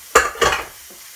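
Crushed vinegared potatoes dropped into a hot frying pan, two quick sizzling bursts fading into a quiet hiss, close and brief, with no talking.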